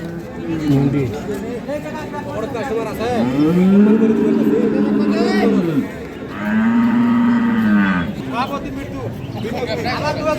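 A dairy cow lows at Ambari's village cattle market, where milking cows with calves are sold. Two long, drawn-out moos sound close by, with crowd chatter and voices of buyers and sellers around them.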